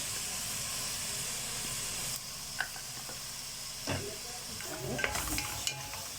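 Meat sautéing in a pan with pepper and meat spices, a soft continuous sizzle and hiss with scattered stirring scrapes and knocks growing busier toward the end.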